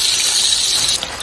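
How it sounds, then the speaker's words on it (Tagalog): Vegetables for pakbet frying in oil in a pan, a loud close sizzling hiss that holds steady, then eases slightly near the end. "kung nag-iiba na yung tunog niya, ibig sabihin yan, na wala na yung tubig niya, nagmamantika na siya"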